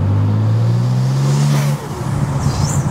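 A BMW M4 Competition (G82) engine drones low and steady in third gear, rising slightly in pitch as it labours under throttle with induction sound, then eases off into a rougher rumble.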